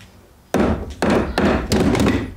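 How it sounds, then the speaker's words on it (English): Hammer blows on a brake part during a brake system upgrade on a Jeep XJ Cherokee: four heavy, close, evenly spaced knocks ring out after a short quiet start, with no talking. "I think if I hammer it"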